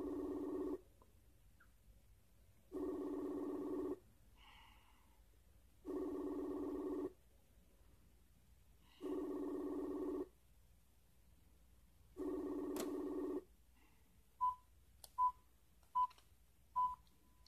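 A phone ringback tone sounds five times in an even rhythm, each ring lasting about a second, followed by a few short beeps, quiet and steady.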